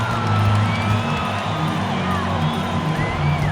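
Basketball arena crowd in the NBA 2K22 video game, a loud sustained roar and cheering with scattered whoops running throughout, steady and dense from start to finish.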